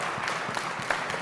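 A church congregation gives a short burst of steady applause, moderately loud and diffuse with no voices on top.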